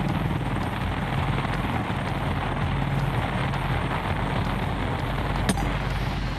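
Helicopter in flight, recorded from on board during a French military shooting exercise, a loud continuous rotor and engine drone that stays steady and close throughout, with one sharp click near the end.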